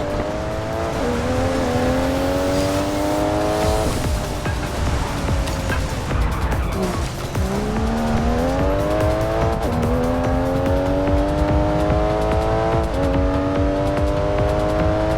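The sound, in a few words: car accelerating and racing in Forza Horizon 5 video game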